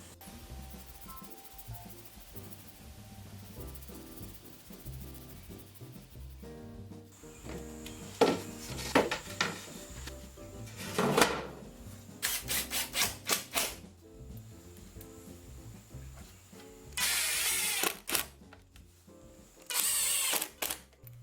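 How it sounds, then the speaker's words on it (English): Rough scraping strokes of sandpaper knocking down a coated wooden workbench surface, coming in bursts of rubbing against a faint mechanical hum, close and moderately loud. "We just knock them back down with a piece of sandpaper."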